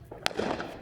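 A single firework bang on the 4th of July, one sharp crack followed by a brief rumbling tail, heard at moderate distance.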